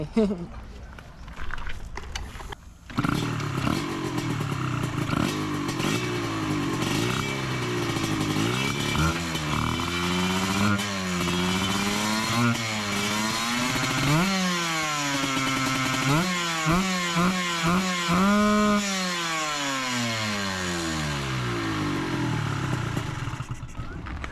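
A small two-stroke motorcycle engine revs repeatedly, pitch climbing and falling in quick bursts, loud and close, buzzing steadily between throttle blips.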